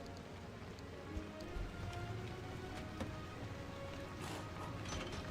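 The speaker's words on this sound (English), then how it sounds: "The rain in this location is absolutely abhorrent." Steady rain falls in a video game location, a dense, even hiss of drops close by with a few slightly louder patters, no talking heard.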